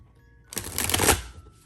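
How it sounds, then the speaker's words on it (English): A tarot-size card deck is riffle shuffled once: a short, dense burst of crisp fluttering card slaps that rises quickly, holds for about half a second and then stops, close up, with no talking. "That actually riffled pretty well."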